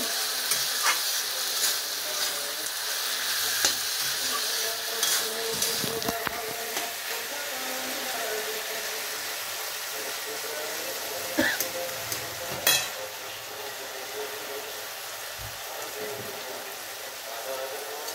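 Banana peel chachchari sizzling and frying steadily in a pan over low heat, with intermittent scraping stir strokes of a spatula against the metal throughout, no talking.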